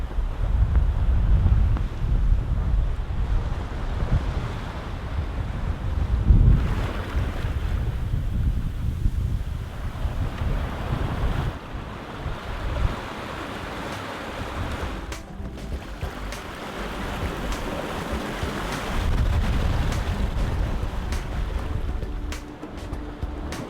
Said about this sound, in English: The wind have picked up now.